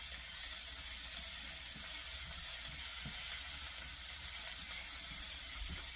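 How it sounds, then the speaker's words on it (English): Vegetables, garlic and ginger sautéing in a pan for fried rice, giving a steady, soft sizzle and hiss with faint scraping stirs underneath. "Everything is nice and sauteed here"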